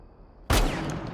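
A single loud gunshot from a weapon fitted with an extended barrel in Rainbow Six Siege, cracking abruptly after a brief quiet hum and leaving a sustained ringing tail.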